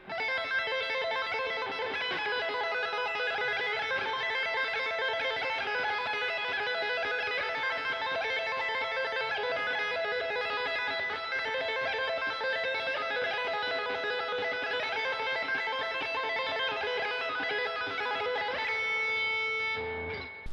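Neoclassical metal pattern played with two-handed tapping on a distorted electric guitar: a fast, steady stream of bright repeating notes that continues loud and even for about twenty seconds, with no talking.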